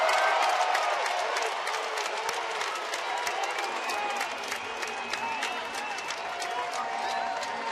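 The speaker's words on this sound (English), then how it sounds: "Getting this crowd revved up here in the bleachers." Baseball crowd in the bleachers at a Houston–Chicago game cheering and clapping after a standing triple, a dense, steady roar of applause and shouts lasting throughout at even loudness.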